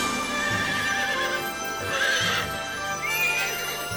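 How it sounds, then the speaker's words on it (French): A cartoon pony whinnies and its hooves clip-clop in a steady rhythm, with several high neighs rising over the animated scene's continuous background score. "Il s'est retransformé en poney."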